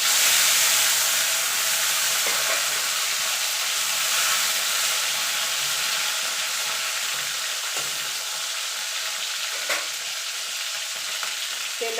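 Nigella seeds and a small tomato frying in hot oil, a steady loud sizzle and hiss running continuously with occasional crackles and stirring scrapes, no voices.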